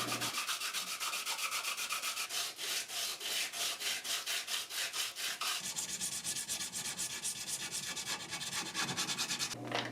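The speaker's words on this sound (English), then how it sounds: "Bit of sanding." Steady back-and-forth sanding strokes rasp against a metal knife blade, a rapid rhythmic scratching that continues throughout, close and fairly loud.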